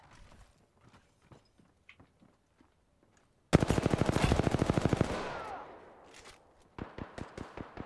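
Automatic gunfire in Apex Legends, a sudden loud rapid burst of shots lasting about two seconds that trails off, framed by scattered quieter clicks and footstep-like taps, then a second shorter volley of sharp shots near the end.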